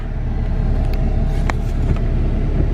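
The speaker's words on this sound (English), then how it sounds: "I took the truck for a little longer of a test drive, got on it, let off" A 2011 Cummins diesel 4x4 pickup's engine hums and rumbles steadily while driving, moderately loud and even, with no voices.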